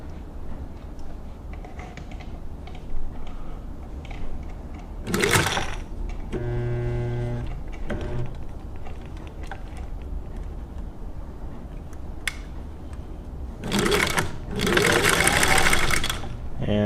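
Singer 15-91 sewing machine stitching fabric during a test run, a steady close mechanical hum with ticking gear clatter and a few louder rustling bursts of handling, with no voices.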